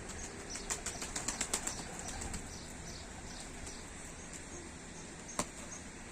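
A flock of tumbler pigeons arrives overhead, wings flapping in a quick patter of beats early on, then a faint continuous flutter with one sharper clap near the end.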